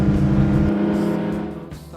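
An Aston Martin DB2 classic car drives in the Transpyrénéenne rally, its engine giving a loud steady rumble that drops in pitch and fades slightly as it pulls along, heard close from inside or beside the car.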